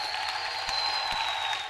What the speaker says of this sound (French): Applaudissez pour les Seigneurs.